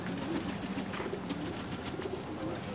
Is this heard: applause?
no